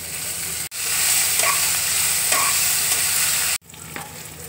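Chopped garlic and green chilli fry in a pan with a loud, continuous sizzle, cut by two brief breaks, with no voices.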